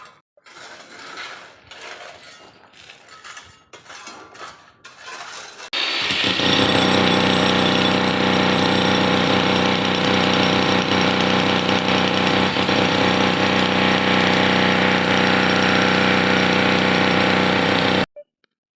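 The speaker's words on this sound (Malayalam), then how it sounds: "നമ്മൾ കോൺക്രീറ്റ് പൊട്ടിക്കൽ രണ്ടാമത്തെ ദിവസം കേട്ടോ." A jackhammer breaking up concrete on a demolition job: after a few scattered knocks it starts up and hammers continuously, loud and close, for about twelve seconds before cutting off abruptly.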